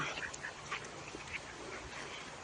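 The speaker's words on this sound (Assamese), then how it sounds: "এইবোৰ আমাৰ হাঁহ কিমান পানীত খেলে চা" Pet ducks quack in short scattered bursts while splashing about in water, the calls moderately close over a steady wet background hiss.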